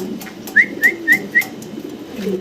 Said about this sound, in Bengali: দর্শক চমৎকার এক পেয়ার জ্যাকোবিন কবুতর